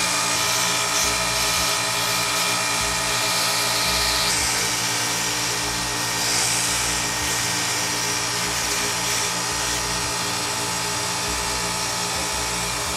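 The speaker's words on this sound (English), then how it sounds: "I'm going to fire this sander up, and then I'm going to use it for shaping" A 2-inch wide belt sander runs steadily and loudly for the whole stretch, its continuous motor whine and abrasive hiss filling the space without any pauses, used for external shaping in a workshop.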